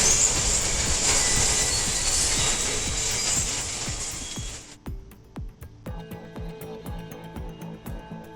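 A train thunders past at close range, a dense roaring wash of wheel and rail noise that suddenly thins out into sparse, rhythmic clacks and metallic squeals as the cars roll on.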